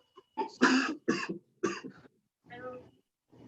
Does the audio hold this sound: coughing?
yes